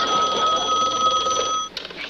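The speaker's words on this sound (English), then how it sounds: "Your phone's ringing." An old-style telephone bell rings steadily and loudly in a sitcom home, a continuous metallic trill that cuts off near the end, followed by a brief handset clatter.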